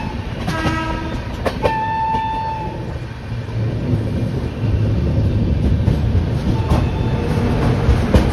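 Inside the chair car of the Agniveena superfast express as it runs, a loud continuous rumble and rattle of wheels on track fills the cabin, with sharp clicks and a distant horn tone early on.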